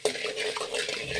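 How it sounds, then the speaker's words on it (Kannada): Black pepper and mustard seeds fry on a medium flame for khara pongal, a brief dense sizzle with quick stirring scrapes close by. "ಮೀಡಿಯಮ್ ಫ್ಲೇಮಲ್ಲಿ ಇಟ್ಟು ಇದನ್ನು ಫ್ರೈ ಮಾಡಿ."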